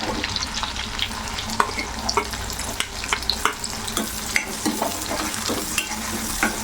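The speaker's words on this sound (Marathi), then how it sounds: "कांदा आणि लसूण व्यवस्थितपैकी छान परतून घ्यायचा आहे" Chopped onion and garlic stir-fry in a pan for lasuni methi, with a constant close sizzle broken by frequent clicks and scrapes of a spoon against the pan.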